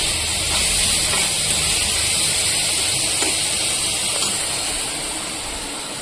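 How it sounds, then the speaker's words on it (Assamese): Spices fry in hot oil in a pan with a continuous loud hissing sizzle that eases slightly toward the end, with no voices. "অলপ ভাজি লওঁ, তাৰপিছত মছলাখিনি দিওঁ।"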